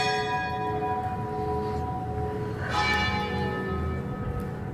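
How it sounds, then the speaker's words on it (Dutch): A church bell strikes six o'clock, with one clear clang standing out over a steady, sustained ringing hum that carries through the whole stretch. No voices are heard. "Zo, dat was de kerkklok."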